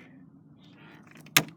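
A door of an abandoned house is tried, with faint rattling and handling noises building to one sharp, loud clunk near the end, with no talking.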